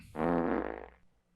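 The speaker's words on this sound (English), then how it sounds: "That's Kratos farting because he's an old fart." Cartoonish fart sound effect from Kratos in the God of War (2018) video game, a single loud, buzzy blast of about one second that fades out at the end.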